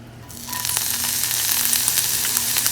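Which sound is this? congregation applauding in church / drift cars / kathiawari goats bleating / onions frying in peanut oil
onions frying in peanut oil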